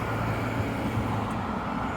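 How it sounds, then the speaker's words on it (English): Steady city street rumble with passing cars, buses and trucks on a walk toward Victoria Park, a continuous mid-level roadway drone without distinct pass-bys. "I'm just walking along listening to the sounds of the city"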